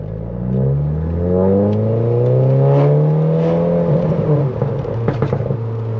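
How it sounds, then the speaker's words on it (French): A BMW's active sound system plays a synthetic engine note while the car is driven, rising and falling revs sweeping smoothly up and back down loudly inside the cabin, with a few light knocks near the end. "Mon active sound de ma BM"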